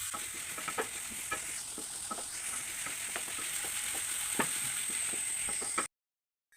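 Onions and shallots frying in a pan over a high flame for a coconut chickpea curry, a constant bright sizzle broken by repeated stirring clicks and scrapes, ending abruptly in silence.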